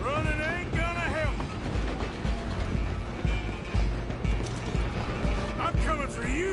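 A train runs with a steady rumbling roll and clatter under loud dialogue, shouted voices and horse-like whinnies, with the rail noise continuous through the whole stretch.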